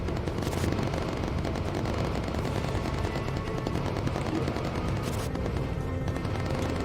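Incendiary machine gun fire in the video game Bomber Crew, a dense continuous rattle of rapid shots with rumbling booms underneath, loud and unbroken throughout.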